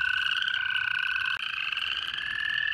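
Toads trill in a loud, continuous chorus by a pond, their sustained high calls overlapping steadily with no pauses and no voices.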